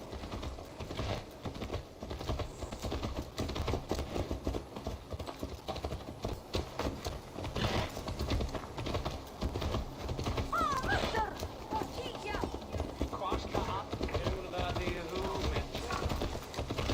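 A horse's hooves clip-clop steadily in Assassin's Creed Valhalla, a continuous rhythmic trot mixed with a whinny, ambient game sounds and keyboard-like clicks, with a voice talking over it.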